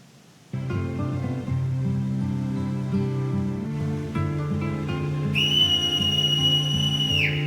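Whistling in the mobile video game Final Fantasy Mobius, a clear, sustained high tone that enters partway through over steady game music and holds to the end.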